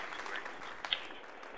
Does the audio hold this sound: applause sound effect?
yes